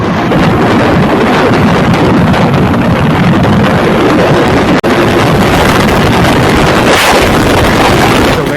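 Kawasaki Ninja 300 motorcycle at high speed on the NH2 highway, loud steady roar of engine and wind buffeting the microphone throughout, with a brief dropout midway.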